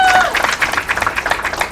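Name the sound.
audience applause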